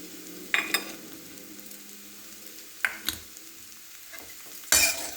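A spoon stirs a pohe mixture with turmeric and salt in a pan, making a few separate scraping and clinking strokes against a quiet background with faint sizzling.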